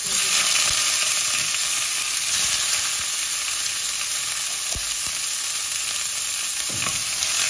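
Pork ribs hit a hot pot for sinigang with taro and sizzle loudly and steadily the whole time, with a few faint knocks of stirring underneath.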